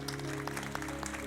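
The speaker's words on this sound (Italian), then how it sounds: "Un applauso." Audience applause at a presentation on the restoration of a historic palazzo, brief scattered clapping over a steady low hum in the room.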